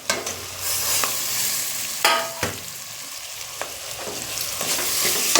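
Tomatoes, mint and curry leaves sauté in oil with a close, lively sizzle, punctuated by several sharp spatula scrapes and knocks against the pan; no talking.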